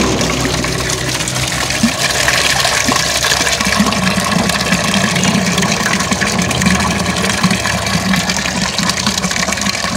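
Water gushes continuously into a hydroponic pak choi tank, a loud, steady splashing and rushing flow with a low rumble underneath, uninterrupted and without speech.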